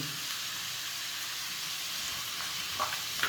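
Garlic cloves, cashews and tomatoes sautéing in a hot pan for a paneer butter masala, giving a steady close sizzle and crackle throughout with a couple of faint clinks near the end.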